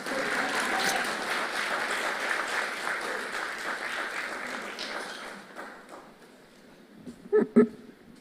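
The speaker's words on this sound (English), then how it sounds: "We could clap now, please." An audience at a pre-budget discussion and magazine launch event applauds steadily for about five seconds, then the clapping fades out, leaving a few last louder claps near the end.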